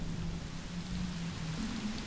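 Steady rain falls over Austin during a cold storm, a dense even hiss of drops on surfaces with a low hum beneath, continuous and fairly loud.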